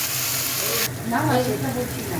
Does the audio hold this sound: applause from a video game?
no